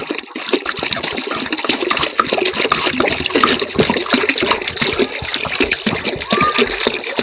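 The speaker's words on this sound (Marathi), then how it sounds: "पहिले ह्यामध्ये पाणी काढून घेऊ." Water gushes steadily into a 20-litre can, a loud, continuous splashing and pouring that stays dense and close for several seconds.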